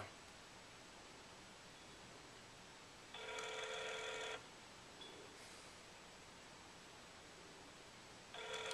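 Telephone ringback on an outgoing call: two distinct ring bursts about five seconds apart, each lasting roughly a second, heard quietly over a faint steady noise floor.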